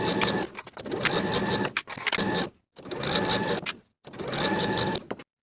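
A sewing machine stitches the bottom edge of a lined vest, running in three steady bursts of close, continuous mechanical whirring separated by brief pauses.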